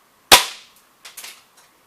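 An airsoft gun fires a BB at a metal target: one sharp, loud crack with a quick decay, followed by a few fainter ticks and rattles, with no talking.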